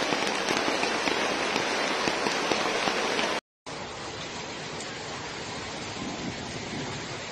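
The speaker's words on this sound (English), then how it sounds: "Eccoci qua, è arrivata la prima pioggia." First rain of the season falling steadily in southern Italy, a dense, continuous hiss of drops on surfaces, loud and close, broken by a brief silent cut before resuming.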